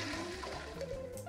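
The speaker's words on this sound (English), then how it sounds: "Ah, flush the toilet." Toilet flush in the cooking game Cook Serve Delicious, a short steady watery rush lasting over a second with no talk, set against faint background game music.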